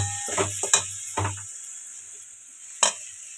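Jaggery mixture being stirred and cooked in a pan for a siddho puli filling: a few close scraping strokes in the first moments, then near silence, with one more sharp scrape near the end.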